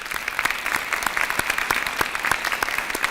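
Audience at a registered nursing program ceremony clapping together, a dense, steady round of applause from a sizable crowd in a hall.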